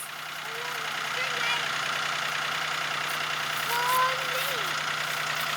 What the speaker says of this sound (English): going to get the tractor